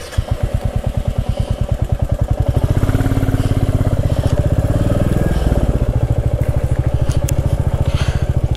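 A motorcycle engine runs on a road trip through North Bengal's Dooars, chugging loud and close in a fast, even pulse. It grows fuller and rougher after the first few seconds.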